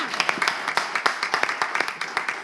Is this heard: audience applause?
yes